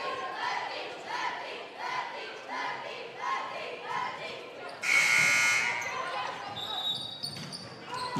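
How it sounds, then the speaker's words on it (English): A loud electronic buzzer blares for about a second during a high school volleyball match, cutting through a crowd's rhythmic chanting and cheering in a gym. "Not sure what the buzzer was for there."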